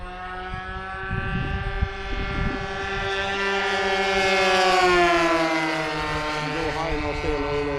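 Tiger 30 Ultra Sport aircraft engines held at full throttle, a steady droning tone with strong harmonics that slowly swells and bends in pitch, with a second engine audible alongside and brief low rumbles early on.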